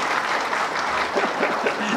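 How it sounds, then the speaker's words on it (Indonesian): Steady applause from an audience at a speech before generals and state officials, a dense, continuous patter of clapping at even loudness throughout with faint voices beneath. "Tepuk tangan dong."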